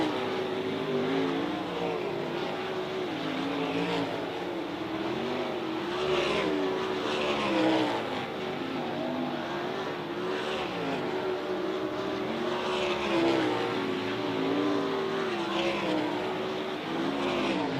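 Dirt race cars running hot laps at Outlaw Speedway during a High Limit sprint car event, engines droning and rising and falling steadily as cars circle the track, loud and continuous without talk.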